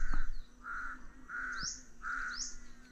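Crow cawing in a rural outdoor setting, three or four drawn-out harsh calls spaced about evenly, moderately near, with faint higher bird chirps between them and no talking.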